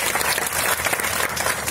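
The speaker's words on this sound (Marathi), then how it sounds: "त्यांच्यासाठी एकदा टाळ्या होऊ द्या." A crowd at a ghazal evening applauds the Urdu poet Nazir Fatehpuri, a Sahitya Akademi winner, in loud, dense, sustained clapping with no talk.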